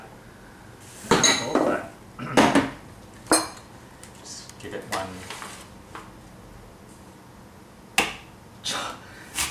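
A knife chops a Granny Smith apple on a board in a home kitchen, giving sharp irregular knocks in small bursts, with a person talking briefly between cuts.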